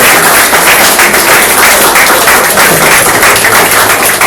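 A church congregation applauds the Lord after a sermon on growing to the stature of Christ, a loud, dense, steady wash of clapping filling the space without pause.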